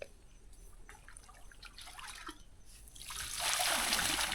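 Water splashing and trickling during washing at a well in a rural Lao field, soft dribbling at first, then building to a louder continuous splash near the end, close up and without talk.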